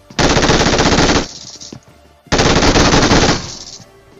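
Two long bursts of rapid automatic gunfire at a military base in a video game, loud and close, separated by a short gap with quieter shots trailing after each burst; no talking.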